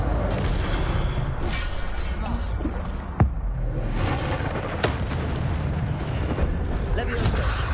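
An Incendio fire spell cast in Hogwarts Legacy on PS5, a roaring, rumbling blaze with booming bursts and a sharp crack partway through, loud and sustained, with a voice faintly underneath.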